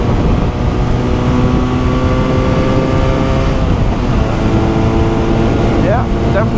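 A 2023 QJMotor SRK400 motorcycle of about 40 horsepower rides steadily in 5th gear, its engine a loud, continuous droning hum with a faint rising whine near the end, all under strong wind rush.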